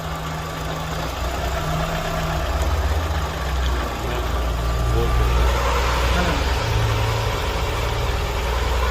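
A 1.6-litre Daewoo Nexia engine idles with a steady low rumble, and its revs climb gradually toward 1200 as it keeps running.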